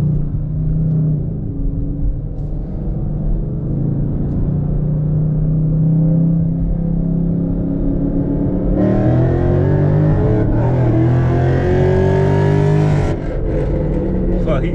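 A loud, deep-throated tuned Ford Mustang 5.0 V8 engine rumbles and revs up, swelling louder midway before settling, heard close and continuous.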